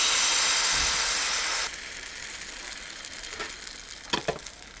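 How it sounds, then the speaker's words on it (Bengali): Patishapta batter hitting an oiled tawa over a gas flame gives a loud hiss at first, which settles into a quieter sizzle, with a few clinks of a utensil near the end. "অল্প তেল ব্রাশ করে দিয়ে দিচ্ছি। পাটিসাপটার ব্যাটারটা দিয়ে দিচ্ছি।"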